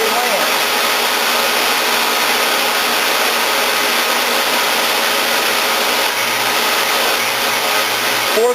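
A grinder dresses the point clearance on a drill bit, producing a steady, close, loud abrasive whir with a hiss that holds evenly throughout, no talk.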